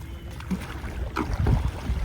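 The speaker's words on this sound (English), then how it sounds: "Boat." A boat out on the water gives low, soft sloshing and faint wind hiss with a few gentle splashes, all quiet and continuous, with nobody speaking.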